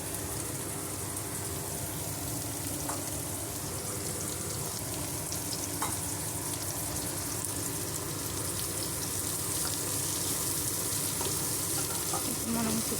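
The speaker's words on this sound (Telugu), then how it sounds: "కొంచెం ఫ్రై చేసుకుందాము." Eggs frying with golden-browned onions in a pan for a boiled egg curry give a steady, close, unbroken sizzle and crackle that holds at even loudness throughout, with no talk over it.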